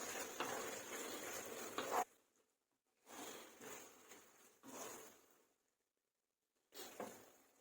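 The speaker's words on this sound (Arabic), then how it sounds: "ونقلب كل ده مع بعض" Chopped tomatoes are stirred into a chicken shawarma mixture in a pan, giving soft scraping and sizzling strokes in a few separate bursts with quiet gaps between, close and low in level.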